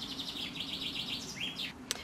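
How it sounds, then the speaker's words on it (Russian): Birds singing in a garden, clear high chirps and tweets repeating in quick phrases over a low steady background hum, close and fairly distinct, with no talking. "Слышите, как песни поют птицы?"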